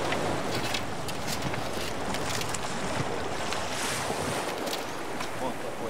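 Sea waves of the Sea of Okhotsk wash in a constant loud roar of surf, mixed with gusting wind buffeting the microphone, with no clear breaks across the whole stretch.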